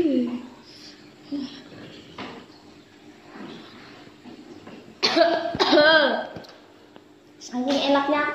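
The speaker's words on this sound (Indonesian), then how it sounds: "Saking enaknya sampai batuk-batuk." Child coughing repeatedly after eating super spicy noodles, a few harsh coughs close by, with other children's voices chattering around them.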